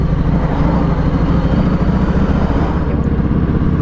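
A Harley-Davidson Sport Glide motorcycle engine rumbles loudly and steadily with a deep, throbbing low-end pulse, close up and continuous.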